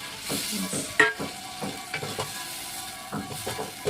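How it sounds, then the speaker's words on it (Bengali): Water added to a hot hilsa fish curry in a pan, a short burst of hissing sizzle with spoon clinks and stirring, close and moderately loud, no talking. "এবার আমি জলটা দিয়ে দিচ্ছি, আর একটু জল দেবো।"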